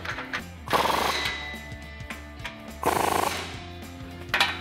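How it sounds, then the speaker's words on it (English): An impact wrench tightens the exhaust flange nuts on a RAM 1500 fitted with an MBRP XP Series dual exhaust, firing in three short rattling bursts separated by quieter pauses. "So I'm gonna start up here with these two nuts on the flange."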